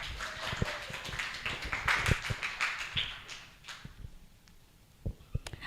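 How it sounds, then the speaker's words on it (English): Scattered audience clapping at a university public speaking assessment, a cluster of sharp claps that thins out and fades, with a few isolated claps near the end. "please give applause to Shahwa"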